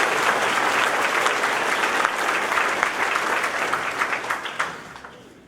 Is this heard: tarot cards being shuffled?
no